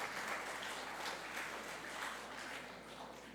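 Audience applause at a Department of Health and USAID event in the Philippines, a steady wash of clapping from a crowd, fairly loud and continuous without speech.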